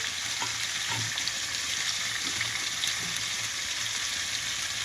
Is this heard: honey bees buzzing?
no